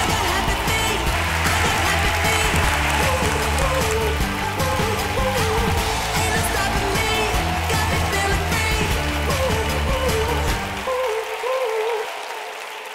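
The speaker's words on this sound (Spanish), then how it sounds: "a mí me gustaría criticar los aplausos del público" A live audience at the Got Talent Spain auditions applauds after a performance by three women, loud dense clapping sustained for about eleven seconds before it quickly thins and fades.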